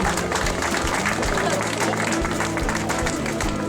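A crowd applauds award recipients at the podium ceremony of a 10 km running race in Laval. Continuous clapping runs throughout, mixed with crowd noise and voices.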